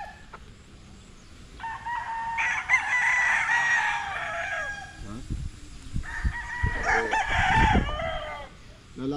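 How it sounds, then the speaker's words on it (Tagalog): Roosters crow repeatedly on a Philippine farm with chickens clucking around them, two long loud crows standing out, while someone talks quietly in the background. "Big, huwag dyan, matakot yung manok."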